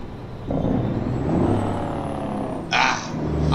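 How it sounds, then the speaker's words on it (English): A truck's Jake brake (engine compression brake) in Buckeye, Arizona, rumbling at a steady drone, with a sharp burst of air hiss near the end and a faint high whine running through. "this back is a nasty Jake brake"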